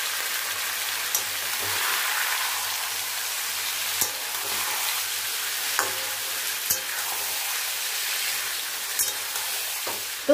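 Chicken pieces added to onions browned in a pan fry with a constant loud sizzle, broken by occasional sharp knocks and scrapes of stirring.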